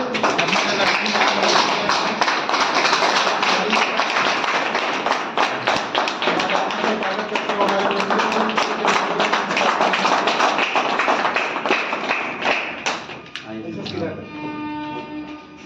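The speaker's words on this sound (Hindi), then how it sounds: "जोरदार तालियों से स्वागत करिए" Loud, dense applause welcoming someone at a Bharat Raksha Dal meeting, steady crowd clapping for about thirteen seconds before it thins out, with voices mixed in underneath.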